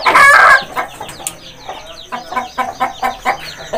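Aseel roosters and chickens cluck and crow at close range, a loud burst of crowing at the start followed by a steady run of rhythmic clucking from several birds.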